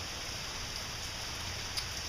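Steady rain falls outside in Louisiana, a dense, even hiss of drops with no pauses and no voices.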